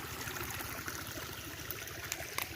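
Floodwater spills over as a small waterfall in a rubber plantation, making a steady rushing, gurgling flow with a few brief splashes toward the end, heard alone at moderate distance.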